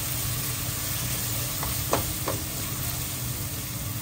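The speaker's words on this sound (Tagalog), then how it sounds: "igisa nyo mabuti." Ingredients for laing sautéing in a pan with pepper, a steady close sizzle and hiss with a few brief stirring scrapes near the middle.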